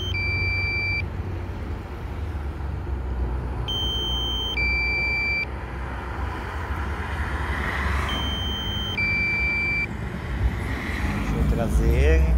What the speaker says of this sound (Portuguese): Ele tá com bastante barulho de caminhão porque eu tô sobre a Fernão Dias